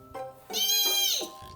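A voice imitates a hadrosaur dinosaur call with a rising, wailing cry that swells and then falls away, much like a drawn-out meow, heard alone over about a second.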